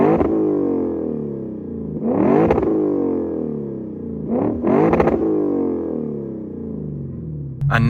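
A Lexus ISF V8 with a newly installed exhaust revs through several hard pulls on private property. Each pull rises sharply in a smooth, loud, throaty sweep, then drops back, recorded from behind the car.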